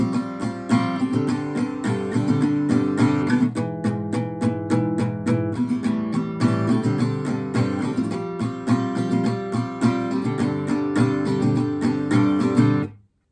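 Steady rhythmic strumming on an acoustic guitar works through the chords of a song, loud and close, with a brief pause near the middle and a clean stop at the end, with no voice.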